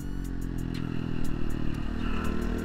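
A 2017 Honda Cross Cub 110 motorcycle rides along with a close, throaty single-cylinder engine hum, rising and rattling over bumps amid road and wind noise.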